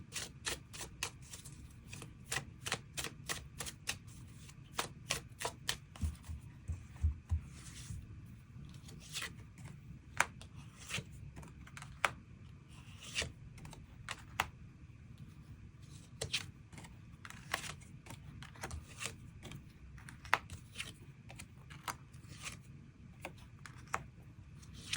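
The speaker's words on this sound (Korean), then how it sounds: "또 시기에 대해서도 추가 카드 뽑아보도록 하겠습니다" Tarot cards are shuffled and drawn in a quiet room, giving a long run of crisp card snaps and papery flicks in quick bursts, then scattered single slaps and slides, close and clear with no talking.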